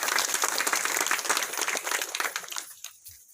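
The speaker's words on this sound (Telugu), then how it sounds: "కేసీఆర్ గారికి అందరూ కూడా ఒకసారి చప్పట్లు కొట్టాలి" An audience breaks into applause for KCR at a government welfare event, a dense burst of many hands clapping that thins and fades toward the end.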